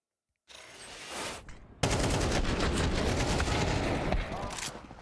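Gunfire from a replayed headshot in a professional esports match at the BLAST Premier Spring Final 2024. A short burst of shots comes first, then a dense, loud, sustained volley of rapid fire. Voices may sit faintly underneath.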